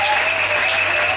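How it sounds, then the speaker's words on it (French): A church audience applauds a preacher, with dense, steady clapping close by that fills the whole short stretch. "Est-ce que tu peux acclamer pour l'homme de Dieu?"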